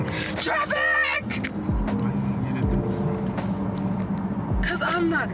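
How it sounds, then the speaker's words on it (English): Road traffic heard from inside a moving car on a North Carolina road trip, a continuous engine and tire rumble with vehicles passing by, under near-constant talking. "Traffic!"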